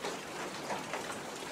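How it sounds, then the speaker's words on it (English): Steady rain pattering on surfaces, a dense, continuous wash of drops that stays evenly loud throughout with no voices. "just listen to the sound of the rain"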